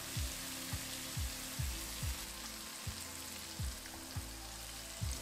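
Taro root (arbi) frying in hot oil with green chillies, a steady bright sizzle with regular soft popping bursts and bubbling, close and continuous without talk.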